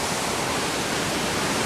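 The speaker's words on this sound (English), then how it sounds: "it's a massive waterfall" A massive waterfall in Scotland makes a steady, dense roar that fills the whole stretch evenly without letting up, with no voices heard.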